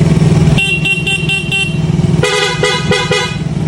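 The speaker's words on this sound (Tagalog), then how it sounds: "Busina tayo." Honda TMX 155 motorcycle horn sounding in loud, sharp bursts: one long blast, a rapid series of short beeps, then another long blast followed by more quick toots, close up and alone.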